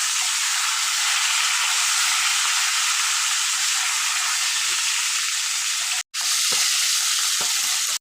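Flipped fish heads fry in hot oil, producing a loud, steady close-up sizzle with a few light crackles and one brief dropout near the end, no speech.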